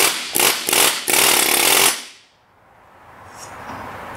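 Air chisel used to remove an axle: loud close bursts of harsh pneumatic hammering, a few short blasts then one longer run, stopping abruptly into quiet shop ambience.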